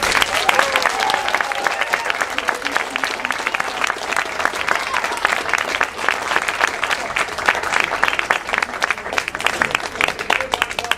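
Sustained applause from a large theatre audience after a class performance, dense steady clapping that carries on for the whole stretch without letup.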